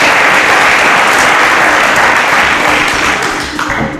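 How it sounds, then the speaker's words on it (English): Studio audience of a televised quiz show applauding, a dense sustained clatter of many hands clapping close and loud that holds steady for several seconds before thinning slightly at the end. "A round of applause for Ike."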